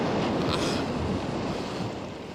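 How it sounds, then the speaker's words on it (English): Wind and waves on the sea make a broad, continuous rushing roar, loud and close at first and easing slightly toward the end, with no voices over it. "Even the wind and the waves obey him."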